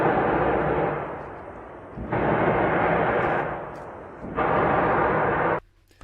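A loud, deep roaring boom spreads across a whole area, heard in long sustained waves that swell, fade and return before cutting off abruptly.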